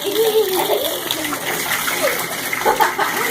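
Pet ducklings paddle in a small tub of water, giving a continuous close splashing and sloshing with a few faint high peeps mixed in.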